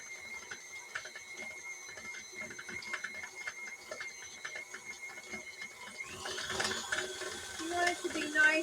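An electric mixer creams butter and sugar for an applesauce cake batter, giving a steady motor whine with fast rattling, clicking beaters that grows louder and rougher toward the end.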